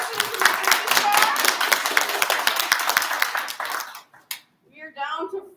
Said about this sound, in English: Another round of applause for Allison for making this far.